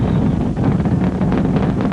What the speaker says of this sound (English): Engines throttling down now to maintain a certain speed as the spacecraft passes through max Q.